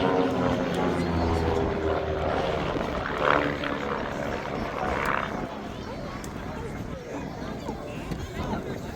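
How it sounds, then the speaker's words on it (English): Propeller aircraft, Van's RV-8s with Lycoming IO-360 engines flying in formation at an air show, give a steady broad engine drone that swells slightly as they pass, with a commentator talking over it. "At 220 mph top speed for these aircraft, which have a Lycoming IO 360 engine."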